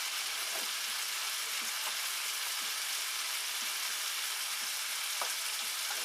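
Steak searing in a pan with melting butter and garlic gives a close, steady, dense sizzle that holds even throughout, with faint soft ticks and pops scattered across it and no voices.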